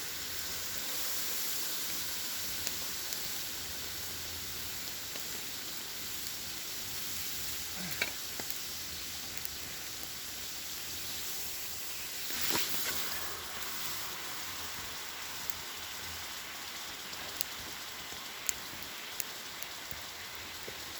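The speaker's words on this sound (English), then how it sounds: "We got water boiling all around the rock." Water boils around a hot rock inside a foil space blanket (emergency heat sheet), a constant close hissing sizzle with scattered bubbling pops and crackles, no talking.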